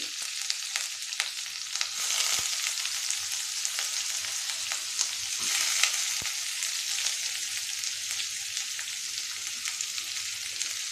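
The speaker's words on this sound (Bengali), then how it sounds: "দেব সর্ষেটা একটুখানি হয়ে এলেই আমি এটার মধ্যে পেঁয়াজ কুচি" Chopped onion sizzles steadily in hot mustard oil in a pan, a continuous bright hiss with occasional stirring scrapes and small pops, close and unbroken, with no talk.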